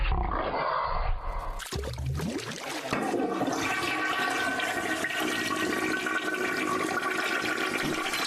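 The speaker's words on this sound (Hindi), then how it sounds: "इन्हें फ्लश कर दो।" A toilet flushes in a home bathroom in a Hindi-dubbed movie scene, a loud sustained rushing roar of water that surges after a brief opening, continuing steadily to the end with no speech.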